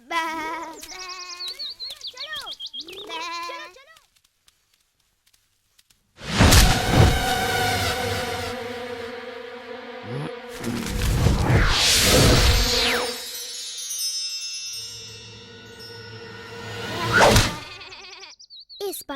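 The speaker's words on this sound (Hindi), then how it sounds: "इस बार मैं सुदामा की नाक के नीचे से ये सारी भेड़ें चुरा ले जाऊंगा" Sheep bleat in a loud, wavering chorus in a pastoral animated scene, several cries overlapping in bursts separated by pauses, mixed with swooshing effects and no speech.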